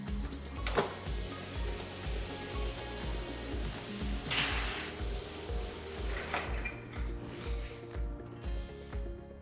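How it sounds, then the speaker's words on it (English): A cutting plotter runs while cutting protective film, giving a steady mechanical hum with rhythmic pulsing motor steps and occasional clicks, close and moderately quiet, with no talking. "we simply hit the plot button here and you can hear the machine running"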